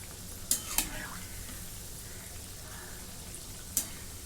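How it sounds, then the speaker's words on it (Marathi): Wheat-flour methi mathri deep-frying in oil, giving a steady faint sizzle with a few sharp metallic clicks of a utensil against the pan. "आता हे चांगले आणि खरपूस तळून घ्या"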